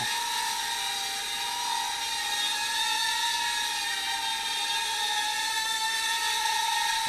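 A JJ R/C 318B car-copter toy drone flies close by, giving a steady, loud, high-pitched whir from its small rotors that holds constant without pause.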